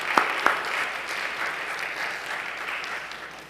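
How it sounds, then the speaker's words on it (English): Steady wash of audience applause after an evening event, with a couple of sharp louder claps at the start and the dense clapping holding evenly before easing slightly toward the end. "Let's have a big round of applause for Kerry and Kari."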